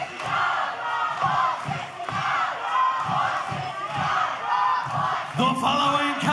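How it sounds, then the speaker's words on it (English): Loud wrestling crowd at an OVW event, roaring and chanting in rhythmic swells that fill the space, with shouts rising and falling throughout. "Listen to this crowd."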